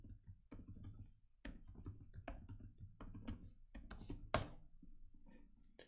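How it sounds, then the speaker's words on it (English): Quiet, close keystrokes on a computer keyboard as a password is entered, a series of irregular clicks in short bursts with brief pauses, the sharpest tap landing near the end. "Okay, and I'm going to type my password."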